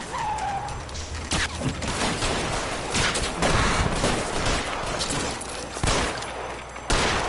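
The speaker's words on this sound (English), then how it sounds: "Didn't realize there was another shooting going on" Gunfire in an L.A. Noire shootout: a dense, loud volley of overlapping shots with sharp cracks bursting out repeatedly over a rumbling background, no talking.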